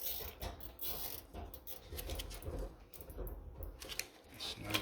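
A zip tie is pulled tight around a battery inside a 1993-era PC case, a run of quick close ratcheting clicks and rustles at irregular intervals, quiet and without speech.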